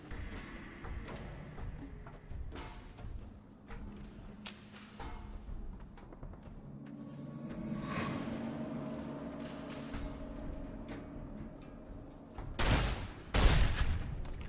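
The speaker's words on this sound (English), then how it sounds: "Shotgun." Shotgun blasts in Fallout: New Vegas during a fight with radscorpions, heard as several scattered sharp shots amid game clatter, with a louder burst near the end.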